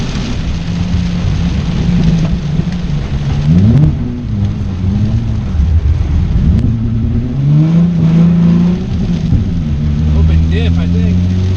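A Nissan Z sports car's engine drones steadily while being driven, pitch rising and falling with throttle and gear changes, loud and continuous throughout.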